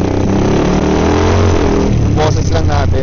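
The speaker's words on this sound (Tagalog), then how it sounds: "Pero okay yung quality ng muffler, naririnig, sa yung kapaligiran." A motorcycle engine revs through its muffler exhaust, a loud, close, rising and falling drone with a sharper burst of revving near the end.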